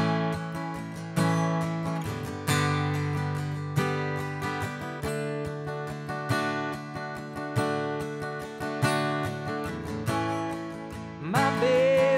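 Guitar strums out the chorus chords of a song in a steady, ringing rhythm that stays full and close throughout, ending on a brief sliding note, with no voice.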